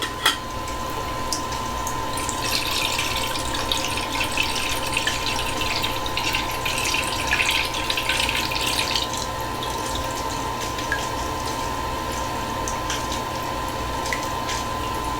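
Bleach for film developing pours in a steady, continuous liquid stream with a constant hum throughout and no talking.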